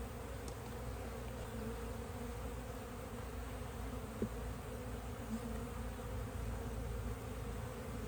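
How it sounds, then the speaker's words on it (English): Honeybees buzz in an open hive during a colony split, a steady, soft, continuous drone close by with no voices over it. "Be gentle with these bees."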